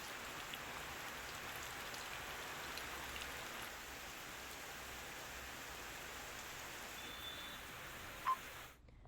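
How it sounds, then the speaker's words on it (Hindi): Steady, dense rainfall in Madhya Pradesh or Chhattisgarh, an even hiss of drops on surfaces continuing unbroken for several seconds before cutting off abruptly at the end. "ये बारिश अपने साथ साथ कई खुशियां लेकर आई है।"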